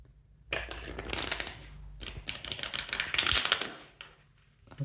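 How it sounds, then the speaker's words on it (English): A deck of tarot cards is riffled and shuffled up close in two fast, rattling bursts separated by a short pause, crisp and dense with flicking card edges. "Just going to reshuffle the deck."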